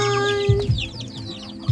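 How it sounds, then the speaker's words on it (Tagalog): Chickens cluck in short, close, repeated bursts, with chirpy calls layered over a few deeper clucks throughout. "dami na naman naming chicken. Manok."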